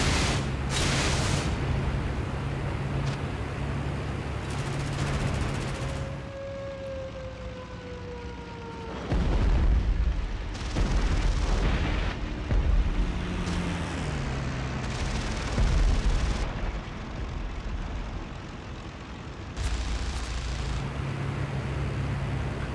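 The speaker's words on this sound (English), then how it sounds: "We've got some anti-aircraft fires, kind of got our height, and we've got more anti-aircraft fire." Anti-aircraft fire erupts around a Junkers Ju 88 C-6 heavy fighter in the IL-2 Great Battles game, with loud sustained rumbling bursts and booms over a steady aircraft engine drone, rising and falling in long waves.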